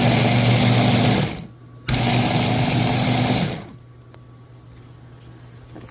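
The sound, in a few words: blender blending bean chili ingredients with salt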